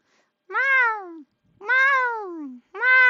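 A person imitating a cat, producing three drawn-out, falling meows one after another, loud and close, each with a clear voiced tone and short gaps between them.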